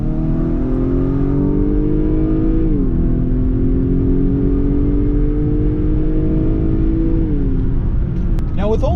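A 2019 Acura RDX A-Spec with a four-cylinder engine in Sport Plus mode accelerates hard, its engine note climbing steadily through two gear changes under loud cabin road roar.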